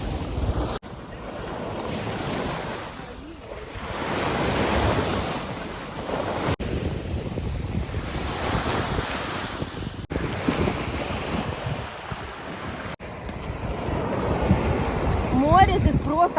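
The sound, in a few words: Black Sea waves at Chernomorsk beach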